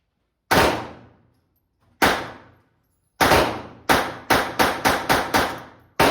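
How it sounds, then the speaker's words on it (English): Unsuppressed shots from a Beretta 30x Tomcat pistol, loud and sharp and close: two widely spaced shots, then a quick run of about eight more, each with a short ringing decay. "now here we go with some unsuppressed fire from the Tomcat"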